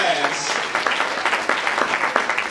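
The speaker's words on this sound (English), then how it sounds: "I want y'all to give these teachers a big round of applause" A graduation audience claps for fifth grade teachers, a sustained round of applause with scattered loud claps and some voices underneath.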